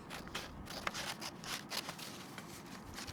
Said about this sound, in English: Let's see how fast I can cut.